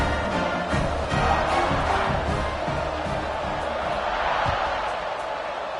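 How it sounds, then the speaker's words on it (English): Football stadium crowd at an SEC game buzzing loudly after a touchdown, a steady roar of many voices with scattered cheers and thumps, continuous and close throughout. "this crowd is buzzing after that last score"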